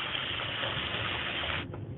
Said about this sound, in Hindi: और इसमें थोड़ा सा पानी ऐड कर देंगे